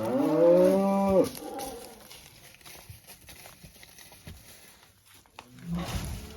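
A cow, a mother cow, lets out a loud, drawn-out moo close by on a farm, followed by quieter rustling and shuffling outdoors, then a second low moo begins.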